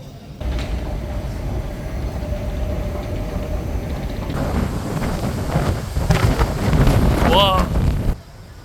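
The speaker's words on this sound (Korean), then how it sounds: "지금 바다 다 와가지고 바람 엄청 부네" Strong seaside wind gusts buffet the microphone in a constant loud roar that swells toward the end, with a person's voice faintly under it.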